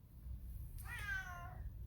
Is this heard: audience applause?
no